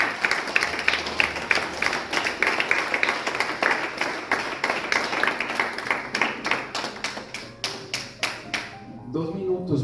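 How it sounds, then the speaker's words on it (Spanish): Church congregation applauding during a Spanish-language sermon: sustained, dense clapping with sharp individual claps, loud and close, thinning and dying away in the last second. "Denle un aplauso a Dios para siempre"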